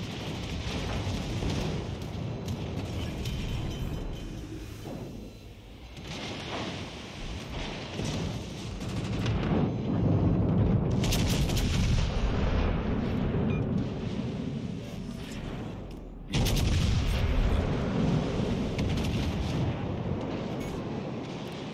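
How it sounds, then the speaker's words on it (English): Naval guns fire in World of Warships Legends, heavy booming salvos and rumbling blasts layered over continuous battle noise, with a sharp loud burst after a brief lull. "Breaks two of my guns in a single salvo again."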